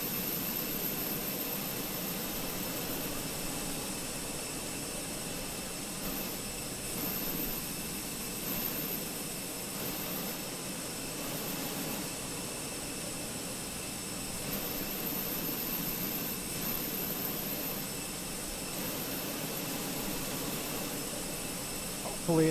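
Steady jet engine and APU roar of an Airbus A320 in Microsoft Flight Simulator 2020, a constant broadband whine and hiss that holds evenly throughout without breaks.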